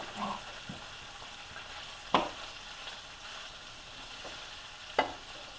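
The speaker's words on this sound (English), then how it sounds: "And as you can hear, that the sausage is popping." Sausage fries in a pan while cooking Southern cabbage, a steady soft sizzle with a few sharp pops and faint stirring, heard alone without talk.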